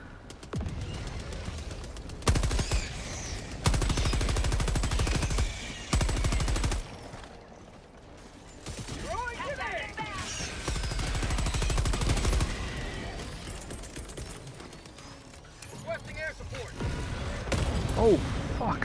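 Automated sentry gun firing in the co-op shooter Helldivers 2, loud rapid machine-gun bursts in several long stretches broken by quieter gaps, with a player talking between them.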